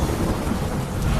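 Heavy monsoon rain pours down steadily with low, rolling thunder rumbling beneath it, a dense continuous roar without pause and no voices.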